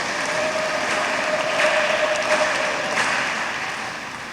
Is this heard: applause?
yes